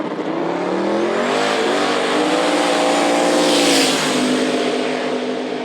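Drag race cars at Knoxville Dragway, including a red Fox body Mustang, roar at full throttle in one loud, sustained engine blast that rises in pitch and holds steady, with no voices.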